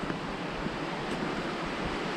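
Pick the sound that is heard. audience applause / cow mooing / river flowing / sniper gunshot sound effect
river flowing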